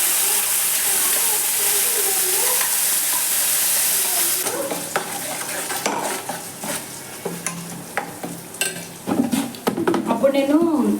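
Stirring and scraping of stuffed brinjal curry in a pan after gravy is poured over tempered cumin, mustard seeds and curry leaves, with soft sizzling, a steady wash of frying noise, then repeated utensil clinks and scrapes.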